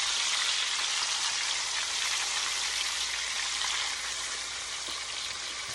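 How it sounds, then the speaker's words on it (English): Oxtail pieces laid into a hot pan give a steady, loud, dense sizzle that crackles on without a break and fades slightly toward the end. "I'm gonna add my oxtail. Start putting them in there."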